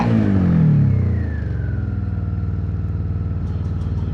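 A Suzuki SV650 motorcycle engine revs up loudly, then settles into a steady, throaty idle with a rapid rhythmic pulse, close by.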